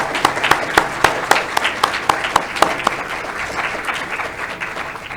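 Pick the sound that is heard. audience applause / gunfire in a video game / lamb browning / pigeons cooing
audience applause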